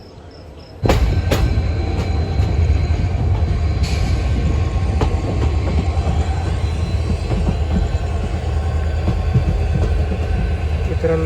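The Nandigram Express (11401, Mumbai to Nanded) rumbles along the rails close by after leaving Chhatrapati Sambhajinagar station, steady and loud, with rhythmic clacks and occasional metallic squeals over continuous wheel noise.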